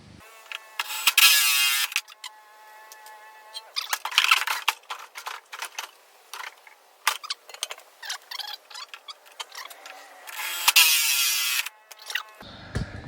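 Bursts of a power drill whining in several separate runs, with intermittent clicks and handling noise between them, drilling holes while converting an old Arctic Cat snowmobile to a fan-cooled engine.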